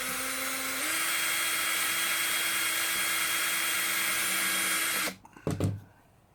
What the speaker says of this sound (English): And then we drill a hole.